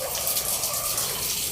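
Water gushes and splashes continuously into a hito catfish breeding setup at a farm, a steady bright rushing flow close to the microphone with no talk.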